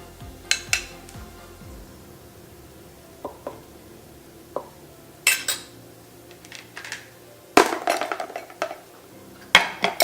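Chickpea vegan tuna salad is scooped onto spinach with metal utensils, giving a series of close clinks and scrapes against a dish and bowl, irregular and crisp, with no talking.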